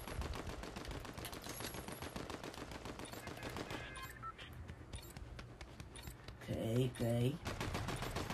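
Rapid bursts of automatic gunfire from the video game Fortnite, played loud and continuous with a brief lull mid-way, and a voice speaks briefly over the shooting.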